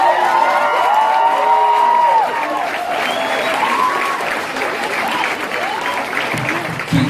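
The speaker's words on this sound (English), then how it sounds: "Keep the round of applause." An audience at a poetry jam at the Jazz Cafe bursts into loud applause mixed with cheers and whoops, sustained and close, with a voice speaking over the crowd near the end.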